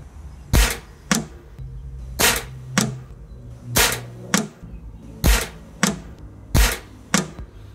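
Air rifle firing wax-lubricated pellets, including Gamo, JSB and lead-free types: ten sharp, close shots in a steady rhythm, each crack followed quickly by a smaller thwack of the pellet striking the target, with no talking.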